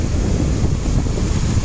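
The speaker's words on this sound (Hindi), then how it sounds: "पानी आ रहा है और ये लेके जाएगा डुबा के।" Sea waves washing up on a beach where clams are being dug, a steady close roar of surf mixed with wind buffeting the microphone, continuous and loud with no talk.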